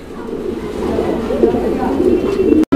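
Fancy pigeons at a farm coo continuously in low, throaty, overlapping calls close by, ending with a sudden brief cut-out.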